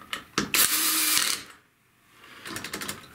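A power screwdriver drives screws into a Kirby Sentria vacuum cleaner during an impeller replacement: a close, loud mechanical whir lasting under a second, a brief lull, then a run of faint ratcheting clicks.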